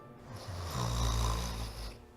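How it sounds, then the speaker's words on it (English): Woman snoring in the Deadly Premonition video game: a single long, soft, rumbling snore that swells and fades over about two seconds, quiet and isolated with no talking. "I just hear her snore"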